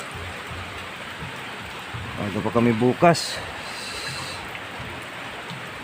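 Steady heavy rain hisses throughout, with someone talking briefly over it midway.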